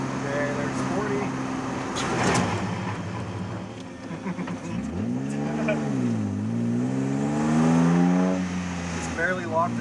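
A weight-stripped BMW E36 325ic brakes hard from 40 mph to a stop, its engine note sweeping down and settling to idle inside the cabin as someone talks over it.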